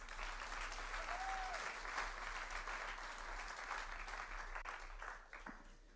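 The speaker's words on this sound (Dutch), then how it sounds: "Mag ik een warm applaus" Warm audience applause at a Dutch-language church gathering fills the room steadily and loudly from start to finish, tapering slightly near the end.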